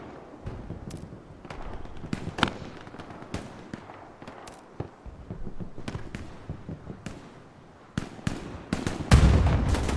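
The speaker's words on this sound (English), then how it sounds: "Artillery round comes in, takes out I think 3 there." Artillery rounds burst in the WWII shooter Hell Let Loose during a competitive Utah Beach match. Dense, uneven explosions and gunfire crackle throughout, with a louder cluster of blasts at the end.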